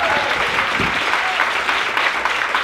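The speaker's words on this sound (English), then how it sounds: "Another round of applause for Sadia." Dense, steady applause from a comedy club audience fills the whole stretch, loud and close with a faint voice rising briefly above it.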